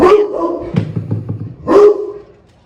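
A dog barks indoors at someone passing outside, two sharp loud barks close by with a short muffled woof between them.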